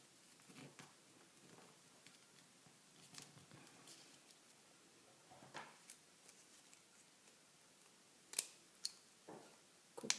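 Scissors snipping paper for an origami plant-pot cover, faint scattered crisp cuts and rustles spread across a quiet background, with a few sharper louder snips clustered near the end.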